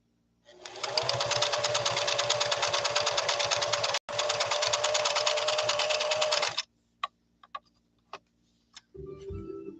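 A Singer Fashion Mate sewing machine runs a blind hem stitch in one steady, fast, loud burst of whirring and ticking lasting about six seconds, then stops, followed by a few sharp clicks and a low thump.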